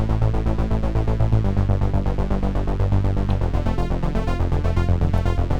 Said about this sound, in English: it's also got like a pulsing bass sound that comes from this